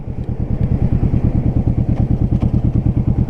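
A Kawasaki Z125 Pro motorcycle being ridden gives off a loud, close, rapid rhythmic engine thumping with a steady pulsing beat throughout, and no talking.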